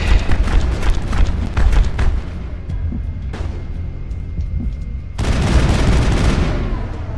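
Loud gunfire from the video game Mass Effect, with dense rapid bursts up front, a quieter stretch, then another heavy sustained volley near the end.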